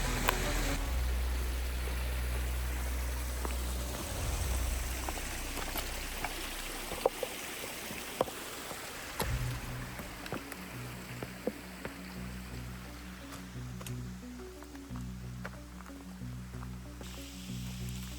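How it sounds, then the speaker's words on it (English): Wading across a creek in the Smoky Mountains backcountry: flowing water babbles steadily while splashes, sloshes and squishing steps come through up close, with scattered drips and louder splashy footfalls in the middle stretch. "hang on, I got a creek to cross."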